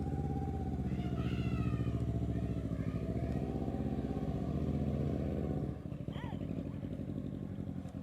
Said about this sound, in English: The bike's moving smoothly around the turn.